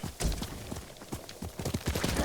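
Horse hooves in the Ghost of Tsushima video game clatter in a quick, uneven clip-clop of a galloping horse, close and steady, with no speech.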